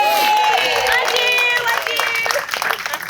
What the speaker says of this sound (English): Let's give a special round of applause to the fantastic staff who have worked their socks off